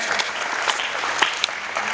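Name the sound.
audience applause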